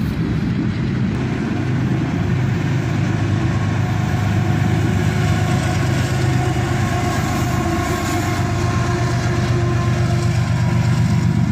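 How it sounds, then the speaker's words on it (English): A single ES44AC locomotive pulls a train out of a siding in Carlisle, giving a loud, steady, close rumble and roar that holds throughout with no voices. "Here we see a single ES44 ACH accelerating this train out of the siding"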